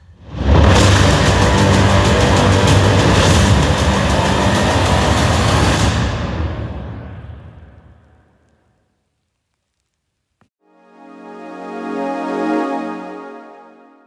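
Sound effects from the Mission Impossible Final Reckoning movie trailer: a loud, dense roaring wash that fades away over several seconds, a brief silence, then a swelling tonal boom that rises and fades.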